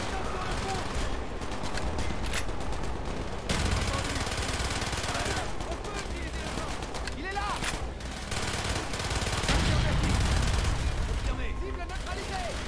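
Rapid automatic gunfire from the video game Call of Duty: Black Ops, a steady stream of shots with overlapping bursts and explosions, while a player talks over it throughout.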